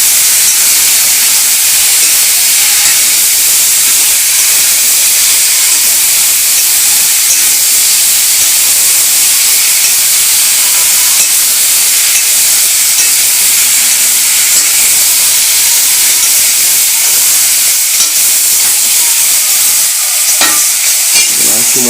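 Vegetables with cumin powder are stirred in a hot pan. A loud, continuous close-up sizzle and hiss runs for over twenty seconds, with faint scraping under it and no talking.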